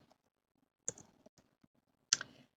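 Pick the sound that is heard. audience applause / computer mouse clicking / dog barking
computer mouse clicking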